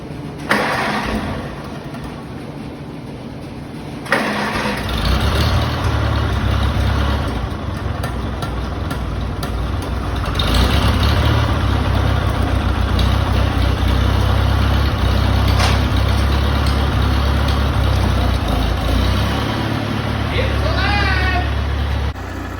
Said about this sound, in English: I've got the little tractor working good